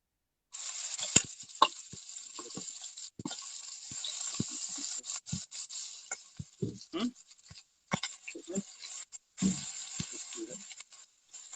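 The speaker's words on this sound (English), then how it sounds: "let me just let these sizzle a little bit." Onions sizzle in a hot pan while chicken tikka masala is being cooked, giving a bright, steady hiss with crackles and pops. A person talks intermittently over it.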